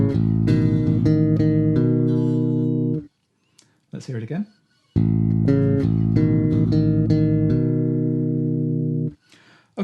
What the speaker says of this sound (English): this week's bass lick is a chordal line that's going to be exploiting the sound of the Lydian mode, in particular the A Lydian mode